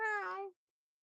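A single drawn-out meow in a human voice imitating a cat, close and clear, lasting about half a second before silence.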